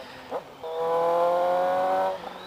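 A 2018 Suzuki GSX-S750 motorcycle with an aftermarket shorty exhaust rises into a loud, steady droning rev for over a second, then drops off, heard close with wind noise around it.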